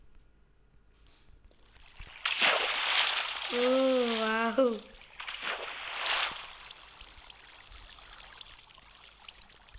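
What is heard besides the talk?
swimming in water in the video game Minecraft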